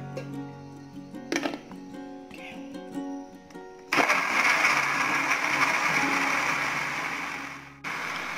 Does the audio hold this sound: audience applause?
no